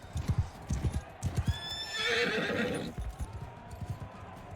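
A horse in Mount & Blade II: Bannerlord gallops with rhythmic hoofbeats during a couched-lance charge, loud and close, with a shrill whinny rising in the middle.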